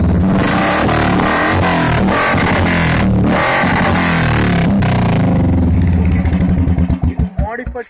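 Royal Enfield motorcycle with a modified double silencer exhaust, loud close engine rumble and revving, with a voice talking over it before the engine note thumps down toward idle near the end.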